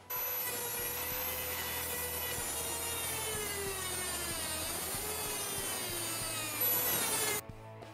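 A piece being cut off a metal threaded rod in a home workshop: a steady, continuous grinding, rasping cut with a shifting whine, close and fairly loud, stopping abruptly near the end.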